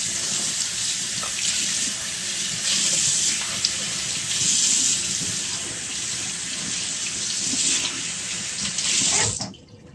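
Water pours out of a film developing tank into a sink in one steady, close gushing stream that runs for several seconds, then stops abruptly near the end.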